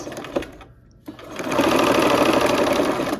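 Sewing machine stitching quilt pieces, a short close rattle of the needle running steadily for about two seconds after a brief pause and faint handling noise.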